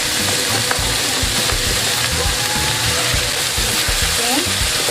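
Carrots stir-frying in a pan while cooking pancit bihon make a steady, loud sizzle and crackle, with stirring scrapes throughout and no break in the hiss.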